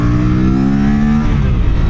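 A 2025 Aprilia RS 457 motorcycle engine drones steadily while riding, a loud, close, buzzy hum whose pitch eases slightly downward, with wind rush underneath.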